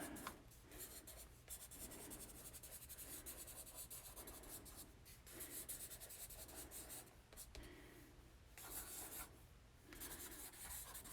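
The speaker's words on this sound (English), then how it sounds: "you can kind of scribble" Pen scribbling and looping circles across an art journal page, a steady close scratchy rasp in repeated strokes with brief pauses, no voices.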